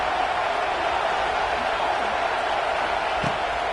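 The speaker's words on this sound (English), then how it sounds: "Listen to this crowd just shaking the girders of this place" A big football stadium crowd roars for the home defense, a loud, sustained wall of cheering that keeps building through the whole stretch with no letup.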